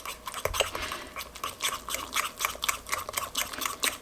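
A spoon stirs a mixture with a small spoonful of honey added, giving a steady run of soft scraping and clicking strokes at close range, repeating rhythmically with light liquid sloshing and no talk.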